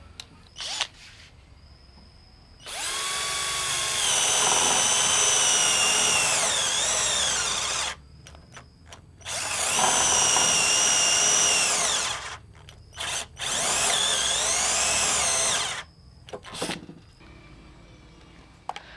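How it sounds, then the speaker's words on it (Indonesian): A cordless power drill whines through three long bursts of drilling into wood, with short quiet pauses and clicks between them. "sekarang kita coba dulu untuk ngebor ini ya. Ngebor kayu ini."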